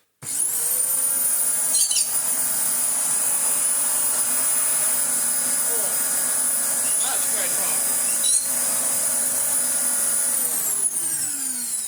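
Vacuum cleaner fitted with a spare Dyson motor runs at a loud, steady high-pitched whine, spinning up sharply at the start and winding down at the end, with faint clicks and handling noise in between.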